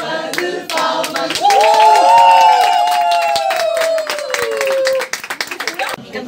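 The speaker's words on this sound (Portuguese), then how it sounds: "uma salva de palmas" A crowd claps along at a birthday celebration in a Porto bookshop, sharp close handclaps breaking out around sung voices, the clapping loud and dense before trailing off into scattered claps.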